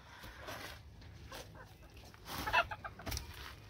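Chickens, including hens and roosters, cluck in short bursts close by, with a few louder squawks near the end over a low background murmur.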